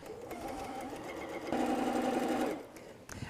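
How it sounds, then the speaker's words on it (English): A sewing machine stitches two quilt fabric pieces together, its steady motor whir running close and continuous, then speeding up louder for about a second before stopping. "we're going to just sew these 2 pieces together"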